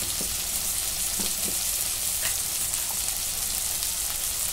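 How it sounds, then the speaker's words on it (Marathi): Garlic and masala fried in oil for pav bhaji give a steady, dense sizzle with a few faint clicks of stirring, close and continuous, with no voices. "लसूणचं चांगलं असं परतून घेतलंय वाज जाईपर्यंत. तेल सुटेपर्यंत मसाला सगळा परतून घेतलाय"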